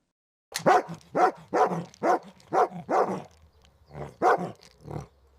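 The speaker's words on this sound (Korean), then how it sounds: "월이가 더 크게 짖기 시작했어요." A dog barks repeatedly in a series of about ten sharp, close barks with short gaps, loud against silence, used as an audiobook sound effect.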